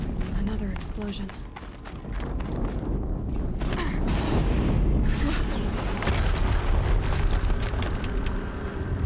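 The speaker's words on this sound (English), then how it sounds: "Another explosion." Deep booming blasts and rumbling eruptions from an explosion in Horizon Zero Dawn, loud and sustained across the scene, with running footsteps and background game noise throughout.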